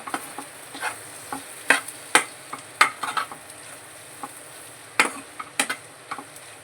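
Capsicum, onion and egg curry is stirred in a pan, with irregular sharp clinks and scrapes of the spoon against the metal over a faint, steady sizzle, close and without talk.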